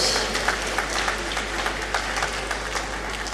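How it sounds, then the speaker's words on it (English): Graduates and guests in a great hall applaud at a university congregation ceremony, a sustained, even clatter of many hands with a faint low hum beneath, continuing without voices for several seconds. "A round of applause, please."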